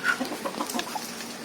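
Native country hens cluck in a short burst of soft, irregular calls, fairly close, with light background noise and no talking.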